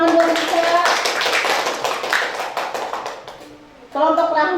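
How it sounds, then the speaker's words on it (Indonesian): A classroom of students claps for a classmate named Lisa, a dense patter of hand claps running for several seconds under a teacher's voice before tapering off, then talk resumes. "Tepuk tangan buat Lisa."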